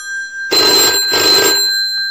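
A telephone rings loudly and close in two long electronic bursts about a second apart, alone in an otherwise quiet room.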